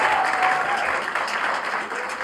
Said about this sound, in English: A round of applause again for Rais,